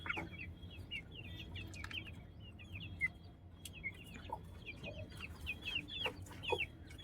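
Aseel hens and a rooster kept on a rooftop cluck and chirp continuously, a busy run of short close calls over a low background hum, with no voices.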